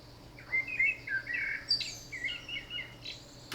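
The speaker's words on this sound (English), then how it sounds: "We have some Birdsong, which is a sample I recorded in June 2018." Birds chirping in a forest, a lively string of short bright tweets and trills from several birds, fairly close, with a quiet hum beneath and a sharp click at the end.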